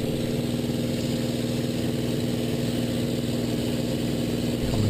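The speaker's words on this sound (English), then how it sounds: "I love this Merlin engine. I think it has got to be the greatest sounding engine that was ever built." Merlin V12 engine of a P-51C Mustang in a flight simulator game, a steady, dense drone holding an even pitch and level loudness throughout, with no voices over it.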